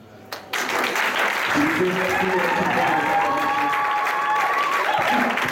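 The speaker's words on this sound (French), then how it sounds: "Merci de recevoir les acclamations." A church congregation bursts into loud applause and cheering that starts abruptly and swells into a sustained, dense roar of clapping and voices, with shouts rising above it.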